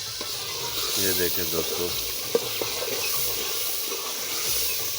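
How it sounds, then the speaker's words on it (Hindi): Potatoes, green chillies and masala sizzle and fry in ghee in a cooking pot, a steady crackling hiss with stirring clinks, while someone talks over it in Hindi-Urdu. "ये अभी इनको भुना जाएगा घी में जी।"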